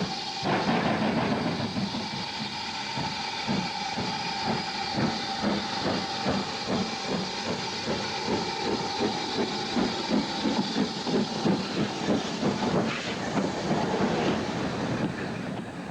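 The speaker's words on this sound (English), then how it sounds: "As the first train leaves" A steam locomotive pulls away from the engine yard on the Bluebell Railway, exhaust chuffing in a steady, quickening rhythm with hissing steam and rail clatter, moderately distant and without talk.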